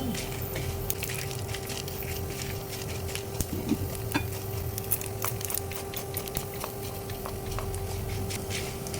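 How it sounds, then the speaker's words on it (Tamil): Asafoetida frying in a pan for Tamil wood apple chutney, a steady low sizzle with soft stirring scrapes and occasional clicks throughout, moderately close and without speech. "பெருங்காயத்தை கூட சேர்த்துருக்கேன் இதுலேயே தான் நல்லா சிவக்க வச்சுக்கோங்க"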